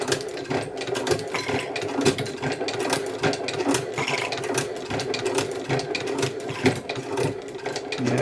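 A Singer 29K171 boot patching sewing machine runs steadily on a short stitch, giving a fast continuous mechanical clatter of needle and gears, close and unbroken, with no voices.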